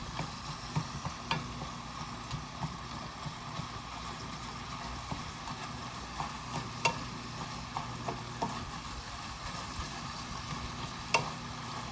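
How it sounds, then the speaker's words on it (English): Sausage fries in a pan while a spatula breaks it into crumbles, producing a soft, low sizzle with frequent light scraping taps and clicks. "I like to break the sausage up into crumbles"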